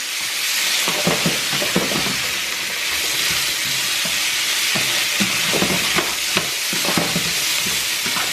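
Vegetables and mushrooms for a curry shrimp stir fry sizzle loudly in a hot pan, with a dense, constant hiss and frequent scraping, clattering strokes as they are stirred. No one speaks.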